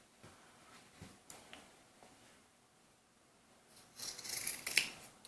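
Scissors snip through the toe end of a knit sock while making a doll's winter cap, a few quiet cuts early on, then a louder burst of close crisp snipping toward the end.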